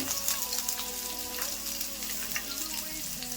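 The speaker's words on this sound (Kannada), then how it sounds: "ಇನ್ನೊಂಚೂರು ಫ್ರೈ ಮಾಡ್ಕೋಬೇಕು ಬೆಳ್ಳುಳ್ಳಿ ಶುಂಠಿ ಸ್ವಲ್ಪ ಫ್ರೈ ಆದಮೇಲೆ" Garlic and ginger sizzle in hot coconut oil in a pan while sambar is being made: a steady, close, crackling hiss with small pops and no talking.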